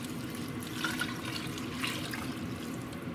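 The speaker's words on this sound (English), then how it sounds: "Let's cover it with dyed water." Water poured into a pot over cooked meat for French dip, a steady quiet splashing and trickling close by.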